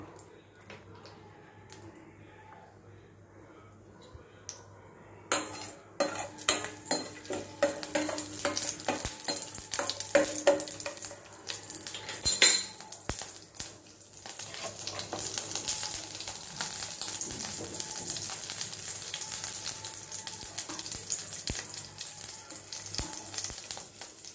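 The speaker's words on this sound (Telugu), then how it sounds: "నేతి తాలింపే బాగుంటుందండి. దానిలో కొంచెం మెంతులు కూడా యాడ్ చేసుకోవాలి." Fenugreek seeds frying in a ghee tempering, quiet at first, then a sudden close sizzle and crackle that keeps going, with light stirring and faint background noise.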